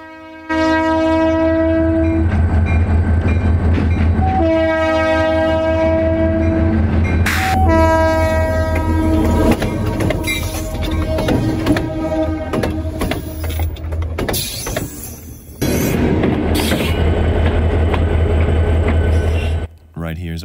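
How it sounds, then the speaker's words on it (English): Keokuk Junction Railway GP-20 locomotive nearing a rural road crossing, blowing its horn in long repeated blasts over a heavy diesel rumble, then rolling loudly past with rattling, clanking cars; a voice speaks briefly under the noise. "You will see the train right there, approaching the crossing."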